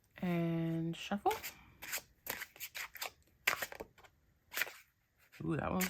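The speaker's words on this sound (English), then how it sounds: "And shuffle." Tarot cards shuffled by hand in a series of short crisp riffles and flicks, close and fairly loud, with a person talking briefly at the start and end.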